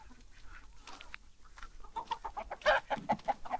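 Chickens clucking in a backyard coop, a series of short, fairly close clucks and calls that grow louder and busier toward the end, with no talk.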